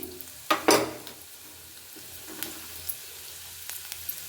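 Fennel and cumin seeds hitting hot oil in a pan, giving a sudden loud burst of sizzle that settles into a steady, quieter crackle with small pops, close up and without talk.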